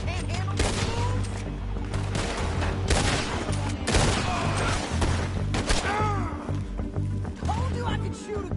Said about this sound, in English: Told you I could shoot a gun, didn't I?